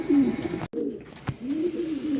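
Racing pigeon cooing near the loft as it arrives at the end of a derby race, a few close, soft throaty coos with a brief knock partway through.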